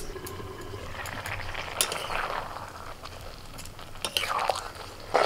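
Food being stirred in a cooking pot as the water slowly reduces, with soft scraping and shuffling strokes and a few sharper clinks over a steady low bubbling, fairly quiet and close.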